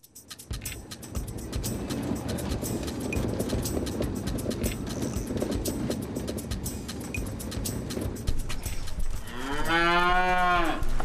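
Dairy cows on a family farm, a loud drawn-out moo near the end after a stretch of steady barn noise with clatter and faint hoof sounds.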